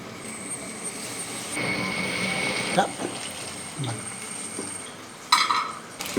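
Pazham pori banana fritters frying in sunflower oil, a steady close sizzle with utensil clinks and scrapes against the pan, a few sharper metallic knocks near the end.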